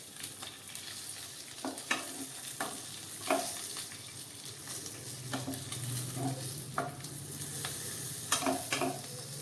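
Stuffed green chillies and masala cooking in oil in a pan, a close, continuous sizzle broken by repeated scrapes and taps of a spoon stirring, with no voices.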